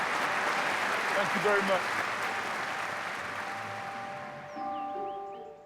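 Applause from an audience at a portrait unveiling for someone, dense clapping that gradually fades, with a voice speaking briefly over it.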